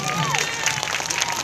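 Audience applause at a live stage show, a dense burst of clapping and crowd noise with some cheering, loud and continuous, with a voice briefly heard over it.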